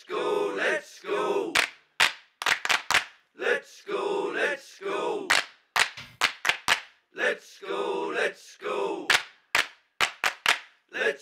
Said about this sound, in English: That sound is still there, the Gregorian chant of let's go, let's go, which is just awful.